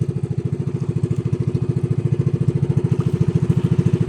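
A small engine idles steadily after its fuel tank was cleaned and a clogged carburetor cleared, putting out a loud, even, rapid putter with no voices.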